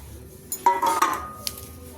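Fried drumstick flowers are set down on a stone grinding slab, a short clattering scrape and a couple of hard knocks close by, fairly loud against a quiet room.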